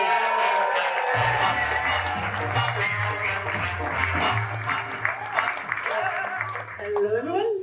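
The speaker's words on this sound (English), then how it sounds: "Start the clapping, the cheering, and welcome Patrizia Di Campli and Vito" Audience applause and cheering welcoming a comedian onto the stage at a Bright Club Glasgow comedy night, starting abruptly after a second of music and continuing as a dense, steady wash of clapping over background music.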